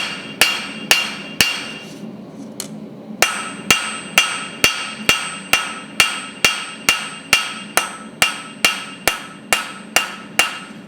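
A hammer strikes metal in a steady rhythm, ringing blows of a blacksmith forging a decorative leaf at an anvil, with a brief pause before the strikes resume evenly.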